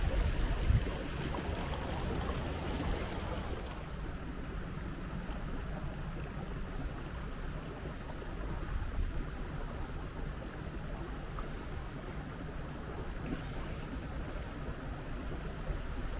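A quiet electric e-propulsion boat motor moves along a waterway, heard as a steady, even wash of water and low motor hum throughout, with no voices.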